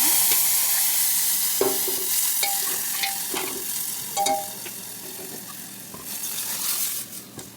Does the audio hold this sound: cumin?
yes